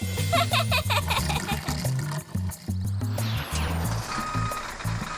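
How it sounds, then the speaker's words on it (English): A toy truck's reversing beeps repeat in a quick steady rhythm, mixed with a busy jumble of electronic toy sounds and a voice. "That's my truck beeping to warn people to stay out of the way whenever it goes backwards."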